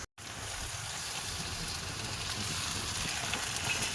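Water used to rinse ground cumin paste, poured into a hot pan with ginger, hisses into a steady close sizzle that holds evenly for several seconds after a brief silence at the start.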